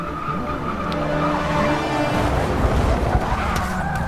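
A Nissan Fairlady Z in Forza 6 at Daytona International Speedway skids out of control after clipping another car, a loud sustained engine roar layered with shrill tire squeal throughout.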